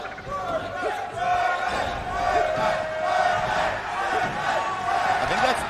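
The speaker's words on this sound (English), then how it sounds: "The crowd is going wild." A Super Smash Bros. Melee tournament crowd chants and cheers in a dense, sustained roar, loud and continuous, with rhythmic swells of voices throughout.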